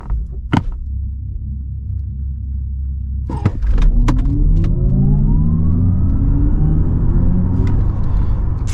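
Audi RS e-tron GT electric car, 650 hp, accelerating hard from about 3.5 seconds, its rising electric motor whine and road rumble swelling loudly after a few sharp thumps, heard from inside the cabin.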